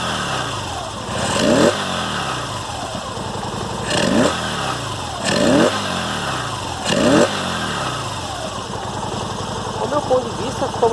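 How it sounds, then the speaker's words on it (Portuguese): A Yamaha Virago 250 V-twin motorcycle fitted with a side-mounted carburetor idles up close and revs in four evenly spaced blips that rise and fall back to a steady idle. "Podem ver ela ligada. Aceleração redondinha. Marcha lenta, tudo."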